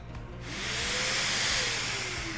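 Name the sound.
dust collection vacuum running on Mirka Deros sander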